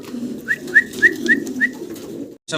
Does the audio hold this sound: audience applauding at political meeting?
no